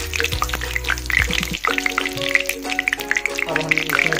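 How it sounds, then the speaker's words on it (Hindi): Asafoetida, turmeric and cumin sizzle in hot oil, a steady crackling hiss under a woman's speech, with clinks of utensils near the start. "ये हींग हल्दी भी डाल दिए और जीरा"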